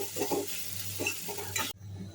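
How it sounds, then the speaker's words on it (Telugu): Steady sizzling of rice frying in a pan with spice powder made from dried red chillies, cumin and lentils, with scraping stirring strokes throughout, close and continuous, ending abruptly. "పొడి వేసిన తర్వాత ఇలా 2 నిమిషాలు వేయించుకొని గ్యాస్ ఆఫ్ చేసుకోవాలి."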